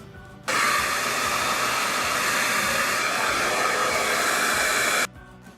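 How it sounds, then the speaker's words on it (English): A handheld blow dryer runs on its cool setting to set a styled hairdo, giving a loud, steady rushing whoosh that starts abruptly, holds evenly for about four and a half seconds, then cuts off. "I will be using the cold air from the blow dryer to really lock everything in."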